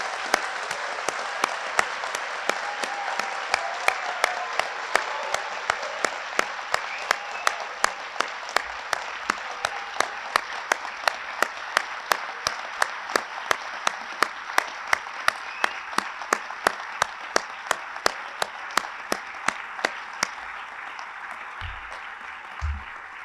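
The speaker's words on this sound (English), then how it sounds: "Let's give our graduates a well-deserved round of applause." Audience applause fills a fire department recruit class graduation ceremony, a sustained wash of many hands with sharp individual claps standing out at a fairly regular beat for over twenty seconds, with no talking.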